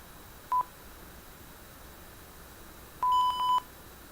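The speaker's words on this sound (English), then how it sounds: "a long beep there when you lose" A Chip-8 game emulator running on a C# interpreter gives one short electronic tone, then after a pause a long steady beep on losing, broken by two brief dips. Both are clean and alone over faint hiss.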